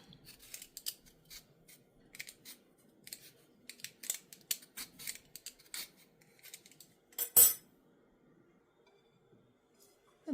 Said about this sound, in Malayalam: ഇനി സ്വീറ്റ് പൊട്ടറ്റോടെ തൊലിയൊക്കെ ചെത്തി കളഞ്ഞിട്ട് ഇങ്ങനെ ഇതിനകത്ത് വെച്ച് ഗ്രേറ്റ് ചെയ്തെടുക്കാം